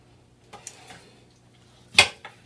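A knife cuts vegetables into rings on a cutting board, giving a few light taps and then one sharper, louder chop followed by a softer knock, all close and in a quiet room.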